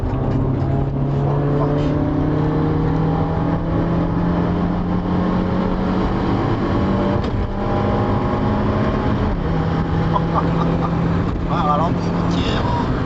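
A Fiat Panda with a 100 hp engine drones steadily from inside the cabin, its pitch holding, dipping briefly and climbing again as it downshifts and accelerates, with people talking over the engine throughout.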